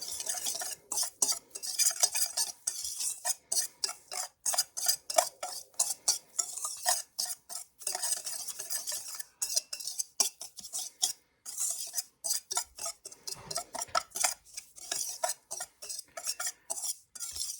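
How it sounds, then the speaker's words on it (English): Dry rice mix ingredients are stirred together in a bowl with a utensil, giving a steady, rhythmic scraping and rustling close by, alone without voices. "And then you're gonna mix this all together."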